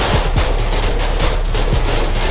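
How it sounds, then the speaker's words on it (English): Heavy automatic gunfire from several shooters in modded GTA 5 fills the whole stretch, loud and continuous, with overlapping bursts and no talking. "Oh, my guys are still shooting."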